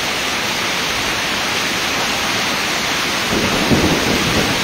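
Steady heavy rain from a typhoon pours down, and a low rumble of thunder swells near the end, with no voices present.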